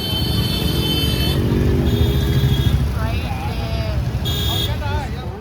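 Busy weekend road traffic in Pondicherry, a steady wash of car and motorbike engines with horn beeps and buzzy tones rising and falling, loud and continuous.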